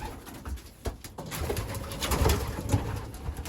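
Young pigeons coo softly in a loft, several low throaty calls overlapping at close range amid faint rustling, with no talk.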